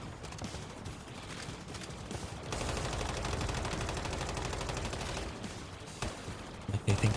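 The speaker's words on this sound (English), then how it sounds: "Why are all these people shooting grenades at me?" Gunfire and grenade attacks in the Once Human survival shooter, a sustained rattling fusillade of rapid shots that swells into a dense burst midway and ends with a few heavier thumps, moderately distant.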